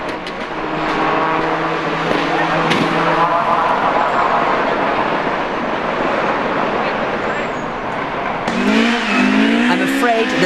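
Rally car at the 2003 Lurgan Park Rally roars and skids through a turn, engine revving and tires squealing amid crowd noise and commentary, ending in a rising engine burst.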